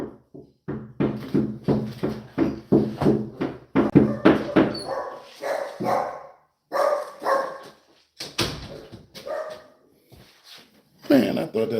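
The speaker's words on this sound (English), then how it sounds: "That's the dog sitting at the door wagging his tail." A dog at a door barks and whimpers in repeated short bursts, fairly close, with people talking intermittently around it.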